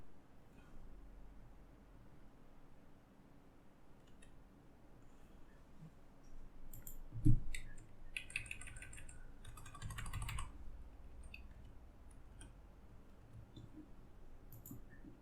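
Quiet typing on a computer keyboard while entering a Java file name, soft scattered key clicks with a few louder taps and a quick burst of keystrokes near the middle, no speech.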